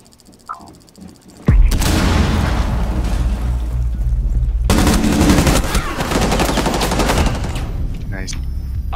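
Gunfire in the shooter game Rainbow Six Siege during a hostage team deathmatch, loud sustained automatic bursts and booming shots that start abruptly after a quiet moment and keep going almost without pause, with players' voices faintly underneath.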